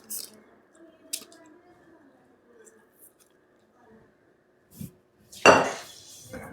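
A sesame and jaggery mixture being pressed into a parchment-lined aluminium cake tin. Soft, scattered taps give way to a louder burst of scraping and clattering metal near the end, close by, with faint low voices.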